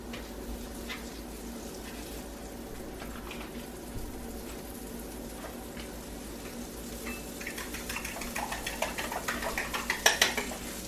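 A frying pan being set on a stove, faint background hum followed by a run of metallic clanks and clatters that grows louder toward the end, close by, with no voices.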